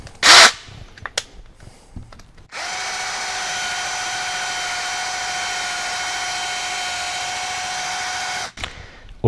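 Parkside PABH 20Li B2 cordless hammer drill running steadily for about six seconds with a loud, even whine, preceded by short clicks and a brief burst, then stopping.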